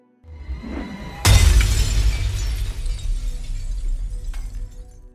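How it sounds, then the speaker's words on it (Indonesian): A porcelain-style doll smashed in the horror film The Boy, a sudden loud shattering crash after a quiet moment, followed by scattering debris and a lingering rumble. "Cole kemudian membanting Brahms yang menyebabkan boneka itu hancur berantakan."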